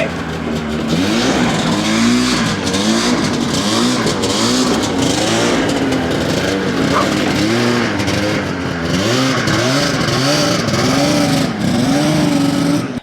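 A vintage Ski-Doo Blizzard 5500 snowmobile, fitted with a new coil, runs at full throttle on a pass around a yard. Its loud, continuous engine roar rises and falls in repeated revving swells and holds close throughout, with no talk over it.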